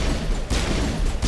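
Gunshots in Mass Effect come as repeated, loud, broadband bursts in quick succession, with sharp attacks at the start, middle and end of a short stretch of combat.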